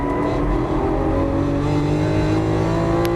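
A Lamborghini Aventador engine roars steadily and loudly as the car accelerates out of a corner on a Las Vegas track, its sustained drone close and dominant throughout.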